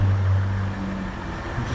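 A Range Rover L405 engine idles with a steady low rumble, heard close in a workshop during wheel bearing work, with a deeper hum in the first half that eases off.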